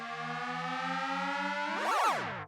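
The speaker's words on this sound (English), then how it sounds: "A little bit of synth noise here" A synthesizer in a song holds steady layered tones, then swoops sharply up and back down in a bright siren-like sweep near the end, loud and upfront.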